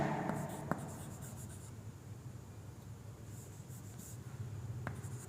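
Chalk or a marker scratches and taps across a classroom board in short bursts, close and fairly quiet, with a couple of sharp knocks and no talking.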